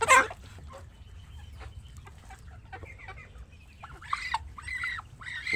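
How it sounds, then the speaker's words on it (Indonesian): Newly hatched Muscovy ducklings give high, thin peeping chirps in short bursts, close by over a quiet background hum, with a louder cluster of calls near the end. "kita akan memindahkan anakan entok yang sudah menetas ya"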